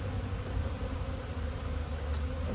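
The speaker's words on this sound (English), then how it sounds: "As you can see, plenty of bees." Honeybees buzz densely around an open hive, a continuous close drone with no breaks.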